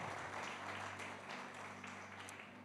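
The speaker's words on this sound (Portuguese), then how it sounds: "Uma linda salva de palmas." A church audience at a Portuguese-language preaching service applauds a visiting preacher's family, producing a soft, distant and steady patter of many hands that stays low and even throughout.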